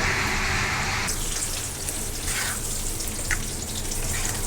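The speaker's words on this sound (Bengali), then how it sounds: "এখন এখানে কড়াই গরম হয়েছে তেল দিয়ে দিয়ে বড়ি দিব" Dried lentil bori dumplings hit hot oil in a wok, setting off a loud, steady crackling sizzle that fills the whole stretch without pause, close and continuous.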